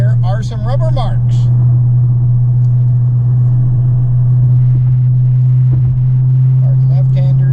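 A 2020 Dodge Challenger Scat Pack Widebody climbs uphill on a winding road with a loud, steady, deep engine drone that holds throughout. Someone speaks briefly near the start and again at the end.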